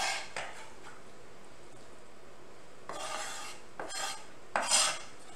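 Mexican street corn filling is mixed with Oaxaca cheese in a bowl, giving a few short scraping, clinking stirs of a utensil against the dish, separated by quiet pauses with no talking.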